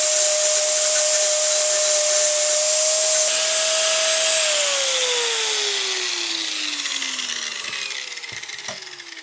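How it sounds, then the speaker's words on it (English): An angle grinder cutting into a bike frame during an electric bike conversion runs as a loud, steady high whine, then its pitch sinks gradually as the blade loads up or spins down, with a few clicks near the end. "Never grind stuff near really expensive,"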